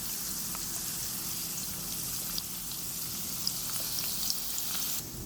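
Indian gooseberries (amla) fry in oil for pickle, giving a steady, even sizzle with a few scattered pops that cuts off sharply near the end.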